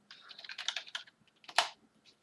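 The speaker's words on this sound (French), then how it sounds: "on va aller tester ce clavier tout de suite" Fast typing on a Rii RK900 gaming keyboard, a close burst of crisp key clicks followed by a pause and a sharper cluster of keystrokes, with no voices.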